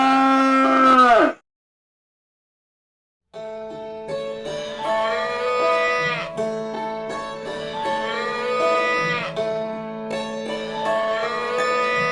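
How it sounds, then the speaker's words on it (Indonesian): A cow lowing in two parts, a short loud moo, a pause of silence, then a long drawn-out bellow with wavering tones that carries on for several seconds, close and with no talk. "sapi."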